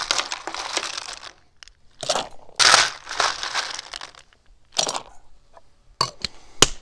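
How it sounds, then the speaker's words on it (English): Ice cubes dropped into a cocktail shaker for a Jillion Dollar Cocktail, a Million Dollar Cocktail variation, giving several loud clattering, crunching bursts separated by short pauses, close by with no talk. "Now, let's get some ice in there."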